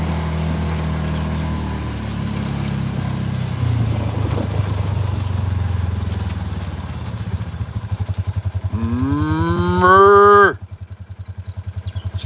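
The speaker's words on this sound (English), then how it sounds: "See if we can't get them mooing." Cows in a farm field lowing, a low drawn-out moo building to a loud, close call that rises in pitch and cuts off abruptly, over a steady background rumble.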